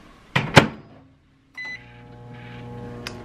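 A microwave oven heats food in a home kitchen: two sharp clicks or door sounds, a short pause, then a beep and a steady low hum running to the end, with one more brief tone near the close.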